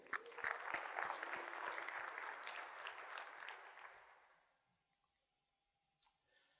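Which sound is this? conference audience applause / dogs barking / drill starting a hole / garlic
conference audience applause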